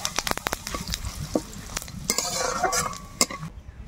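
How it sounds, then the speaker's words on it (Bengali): Dried red chilies, whole cumin and bay leaves dropped into hot oil, sharp sizzling bursts with stirring clatter of a spoon on the pan, close and fairly loud, no talking. "তেল গরম হয়ে গেছে, এবার দুটো শুকনো লঙ্কা দেব, গোটা জিরে দিয়ে দেব, আর দুটো তেজপাতা।"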